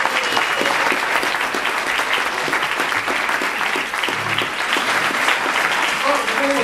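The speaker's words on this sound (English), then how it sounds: "I think she deserves another round of applause." A school concert audience gives sustained, loud applause after a jazz band performance, a dense continuous wash of clapping with some voices mixed in.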